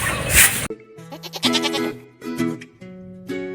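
Newborn lambs bleat at night under a heat lamp, several short wavering calls in quick succession, fairly close, following a burst of rough noise at the start.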